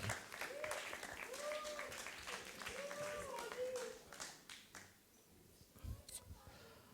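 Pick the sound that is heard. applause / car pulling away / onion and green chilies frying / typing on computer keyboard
applause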